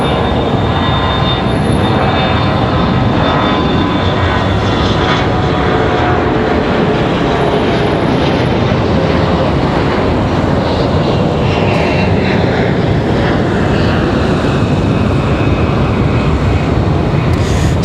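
Delta Connection jet headed to JFK at Raleigh-Durham International Airport, a loud, sustained engine roar that stays broad and constant throughout, heard from outdoors with no talking.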